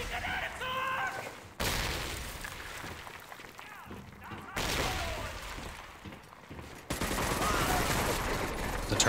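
Heavy turret fire in Medal of Honor: Vanguard comes as loud sustained bursts in three separate stretches with short quieter gaps between them, and someone talks over the shooting.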